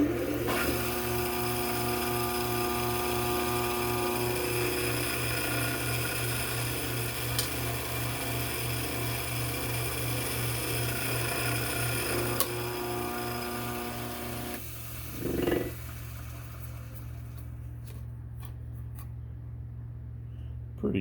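Drill press boring into a metal front skidplate for a TRX, a steady whining hum with a faint rhythmic chatter running for about fifteen seconds, then easing off as the bit backs out; a voice talks briefly over it.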